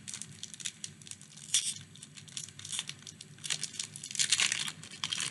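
Yu-Gi-Oh Legendary Duelists booster packs are torn open close up: irregular crinkly foil rips and crunches come in bursts, loudest near the end, with no one talking.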